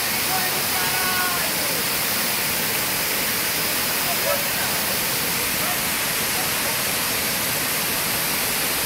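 Waterfall at Véu da Noiva pouring in a steady, loud broadband rush during a rappel descent, with brief voices near the start.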